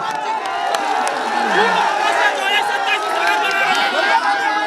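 A large crowd at a political rally fills the air with loud, continuous chatter and shouting, with scattered cheers and whoops rising from the mass of voices.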